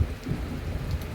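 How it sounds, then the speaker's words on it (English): Steady rain falling over gardens with a low rumble of thunder beneath, a continuous close wash of sound without voices. "I hope everybody's getting a blessing of rain"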